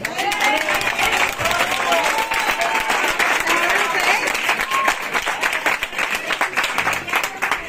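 Steady applause from a crowd at a livestock fair in Bañobárez, thick and continuous for the whole stretch, with voices talking underneath.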